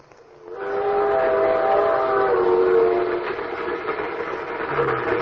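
A radio drama sound effect of a train: a steam train whistle blows with a sustained chord over rumbling rail noise, loud and close, fading slightly as the rolling train continues.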